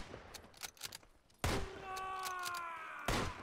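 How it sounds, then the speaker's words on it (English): Rifle fire rings out in the World War I shooter Tannenberg against Russian troops: a quick run of sharp shots, then two louder close blasts separated by a lingering tonal ring. "Just shot a whole bunch of rounds against Russians"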